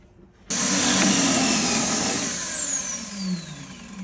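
A power drill spins up suddenly and drives a pocket hole into clamped barnwood through a jig, loud and close, its whine holding and then slowly winding down in pitch toward the end.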